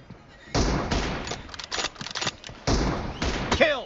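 Gunfire in the mobile battle-royale game PUBG Mobile: several loud bursts of shots and impacts, some quick rapid volleys, with short gaps and sharp close reports throughout.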